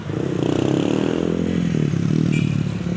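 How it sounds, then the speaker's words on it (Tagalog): A noisy motorcycle revs on a city street near a church in Cebu City, its throaty engine drone rising and falling loudly and up close, with faint street clatter around it. "Binida niya yung motor niya, maingay."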